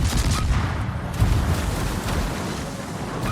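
Destroyer guns in a naval battle video game fire in a rapid, dense barrage of loud booming shots, continuous and heavy for a few seconds.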